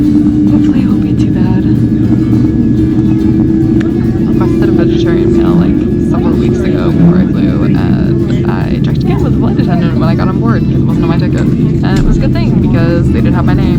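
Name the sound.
airplane cabin noise before takeoff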